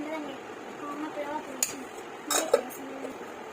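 Hot rice and egg tamarind curry being served onto a plate, with a few sharp clinks of a spoon against dishes standing out over quiet background noise as someone talks.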